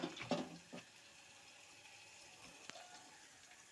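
Water poured over leafy greens to rinse them, a faint trickle and splash near the start, then quiet running water in the background.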